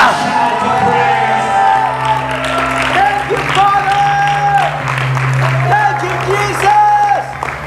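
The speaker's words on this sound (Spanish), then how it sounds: "Ahora den un aplauso al fuerte" A church congregation claps and cheers loudly, with whoops and shouts over sustained applause while voices and a held musical tone run underneath.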